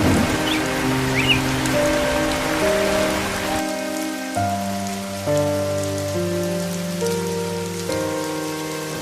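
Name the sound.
rain falling in a cartoon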